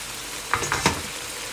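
Onions and green chili dropped into a hot pan for Tibetan beef chowmein, giving a soft steady sizzle with a few brief stirring scrapes near the middle, quiet and without speech.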